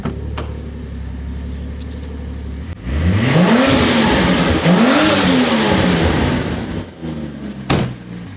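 A car engine idles with a rough exhaust burble, then revs hard twice in quick swelling blasts, loud and close, before settling back to idle with a sharp blip near the end.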